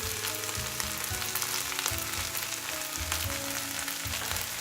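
Roasted sesame seeds sizzling in a stir-fry pan of mushrooms and vegetables, a steady close crackle and hiss with sharp pops throughout, no voices.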